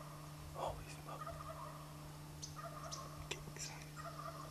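Wild turkeys gobble at a distance in rural Mariposa, California, several short rattling calls spread across a quiet outdoor scene with a steady low hum underneath.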